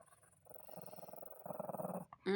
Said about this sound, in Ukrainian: Погарчи, погарчи трошки.